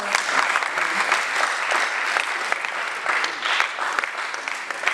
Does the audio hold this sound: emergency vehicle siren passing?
no